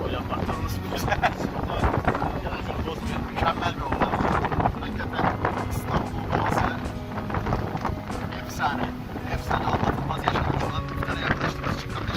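A passenger ferry crosses the water in Istanbul, giving a steady rumble of engine and wind noise against the microphone throughout, with people talking over it.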